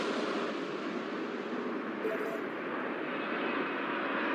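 Jet airliner taking off from a runway at Vancouver airport, a steady broad roaring rumble that holds loud and even throughout, with no talk over it.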